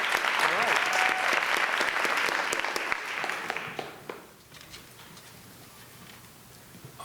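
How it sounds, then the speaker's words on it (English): An audience at a community jazz band concert claps loudly and steadily for a bass player, then the applause fades out into quieter room noise. "Please give her a round of applause."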